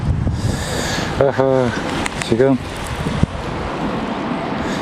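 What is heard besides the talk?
wind blowing outdoors at fishing spot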